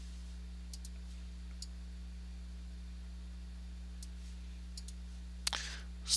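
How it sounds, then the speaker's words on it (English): Computer keyboard keys pressed one at a time give sparse, sharp little clicks at irregular intervals over a steady electrical hum, with a slightly louder clatter near the end and no talking. "I'm pressing the keyboard up now to go 1 pixel at a time."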